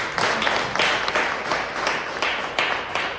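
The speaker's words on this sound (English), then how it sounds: "So, clap for yourself again." An audience at an International Women's Day corporate speech gives a burst of applause, with many hands clapping in a dense, steady patter. A few louder claps stand out in a regular rhythm, and no voices are heard.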